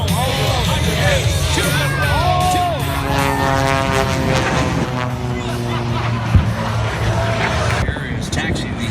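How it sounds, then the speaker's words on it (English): Two Rhode Island Air National Guard C-130 aircraft taxi at an air show, a steady propeller drone under a commentator's voice over the public address and crowd noise. "Here is taxiing these two Rhode Island Guard C-130 chasers"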